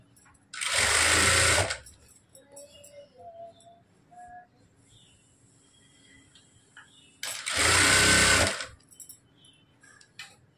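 A domestic sewing machine stitches a plain blouse in two loud, close bursts of about a second each, separated by a quieter stretch of small clicks and handling sounds.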